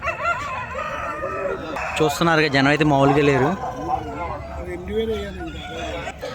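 Roosters crow at the crowded Nallapadu rooster market, one long loud crow in the middle with fainter clucking and calls around it, heard beneath someone talking and crowd chatter.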